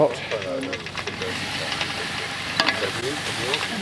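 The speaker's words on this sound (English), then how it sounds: "So the hot rocks go in the pot." Hot rocks dropped into a cooking pot in Mongolia give off a hissing, steaming sizzle with small pops and crackles, heard beneath someone talking.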